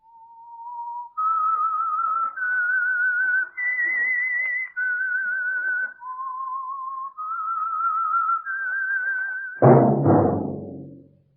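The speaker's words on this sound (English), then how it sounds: "That whistle is your signal for the Signal Oil Program" A lone whistled melody of long held notes stepping up and down, clear and close, the theme of the 1947 radio drama The Whistler, ending on a sudden loud orchestral stab.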